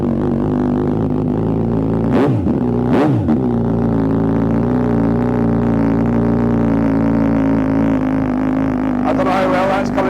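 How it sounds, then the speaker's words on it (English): A Suzuki GSX-S1000 motorcycle with a straight-through race exhaust idles loudly and steadily with a deep, rough exhaust rumble, blipped twice in sharp revs, then a rising rev near the end. "Right, let's hear that exhaust."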